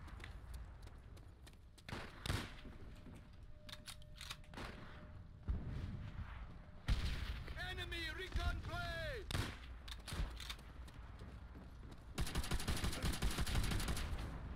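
Enemy artillery and gunfire in Call of Duty: World at War, with bursts of shots and booms scattered across a battle din and a denser rapid volley near the end, plus a whistling tone in the middle.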